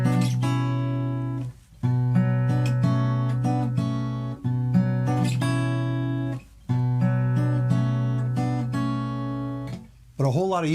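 Intro of the MASH theme played as rich sustained chords with clear harmonic tones, changing every couple of seconds with brief gaps between, loud and close, ending in a wavering bent note.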